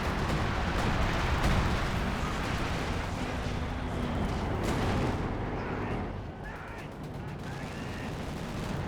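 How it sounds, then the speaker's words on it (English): An artillery barrage in the WWII strategy game Company of Heroes: a dense, continuous rumble of shell impacts and explosions, loud and sustained, with a few sharper cracks layered through the din. "Artillery barrage there."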